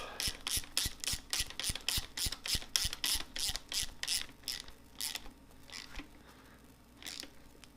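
A hand ratchet with a 9/16 socket snugging oil pump bolts on a 1986 Mustang Ford 5.0 engine, a rapid run of crisp clicking ticks that slows and spaces out toward the end, close and clear.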